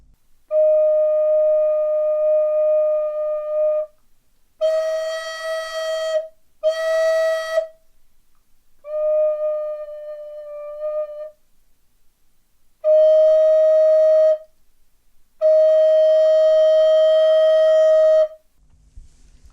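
A breathy recorder sustains a single note in several long tones, some soft and pure, others louder and brighter, separated by short silences.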